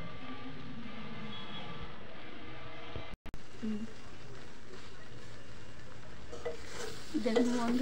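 A spoon stirs sweet-sour-spicy Bengali plum pickle in a pan: a steady, close scraping with a faint sizzle throughout, broken by a brief dropout near the middle.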